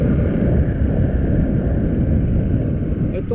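A slow motorcycle ridden along a rural road near Santa Inez, Tanay gives a steady, loud low engine rumble mixed with wind buffeting, continuous and close with no voices.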